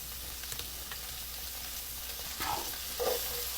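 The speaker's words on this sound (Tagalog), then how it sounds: "So ilalagay na natin ang bawang tsaka sibuyas." Garlic and onion sautéing in butter in a pan, a steady close sizzle and crackle with light scraping as they are stirred, with no talk.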